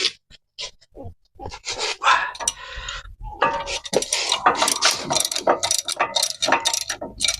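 A ratchet loosens the wheel hub bolts on a 2016 Chevy 3500HD DRW 4x4, giving close, loud bursts of rapid clicking separated by short pauses.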